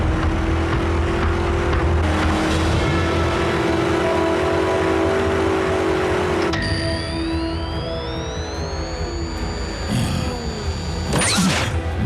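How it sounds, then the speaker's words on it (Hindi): Car engine roaring with a steady, loud drone that swells into a rising whine partway through, ending in sharp bursts of noise. "मैं इस इंजन की आवाज को अच्छी तरह पहचानता हूं।"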